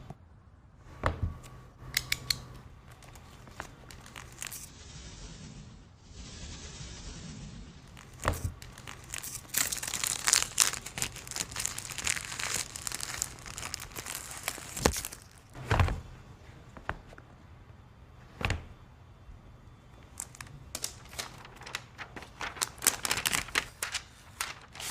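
The packaging of a Xiaomi Book S 12.4-inch 2-in-1 laptop is handled during unboxing: close crinkling, tearing and rustling with scattered sharp taps and soft thunks, in intermittent bursts over a quiet room.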